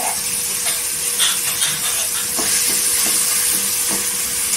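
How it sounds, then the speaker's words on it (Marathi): Dried shrimp dressed with squeezed lemon sautéing in oil in a home kitchen, a continuous hiss and sizzle with scattered clicks and scraping taps from stirring, close and even. "ही सुकट आहे ना ती टाकायची, त्याला लिंबू पिळलेला आहे, ती तेलावर परतून घ्यायची"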